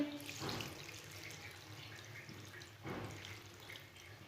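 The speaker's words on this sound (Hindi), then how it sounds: "1 गिलास पानी डाल लेंगे" Water runs in a soft continuous stream, fairly quiet, with a couple of louder splashing bursts as a glass of it pours into a cooking pot with spinach.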